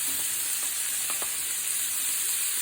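Steady sizzling of venison heart frying in a hot pan, a constant bright hiss with a few soft pops and crackles, close and continuous with no voices.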